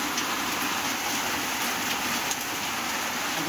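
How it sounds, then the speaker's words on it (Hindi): Heavy rain pours down steadily outdoors in hilly country near a dam, a dense, loud, unbroken hiss of falling water with no talking. "देखो कितनी तेज बारिश हो रही है।"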